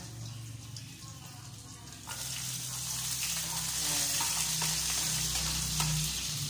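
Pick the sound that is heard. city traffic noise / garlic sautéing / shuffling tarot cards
garlic sautéing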